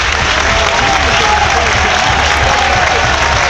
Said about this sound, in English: They're just clapping to defend this free kick